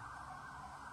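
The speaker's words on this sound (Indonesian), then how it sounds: "belasan kendaraan roda 2 dan roda 4 mirip kendaraan dinas polisi, membunyikan sirene dan menggeber knalpot" Sirens wail continuously from police-like vehicles driving in a convoy, a loud, steady electronic tone with no voices over it.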